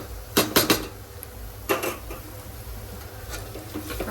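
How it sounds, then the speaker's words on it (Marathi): Long-sliced onion tips into a pan where dal khichadi ingredients have been roasting, giving a few sharp clatters and scrapes of a utensil against metal, then soft stirring and a faint sizzle underneath, no voices. "हा कांदा ॲड करणार आहे"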